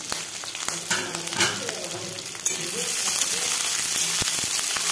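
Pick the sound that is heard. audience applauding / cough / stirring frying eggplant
stirring frying eggplant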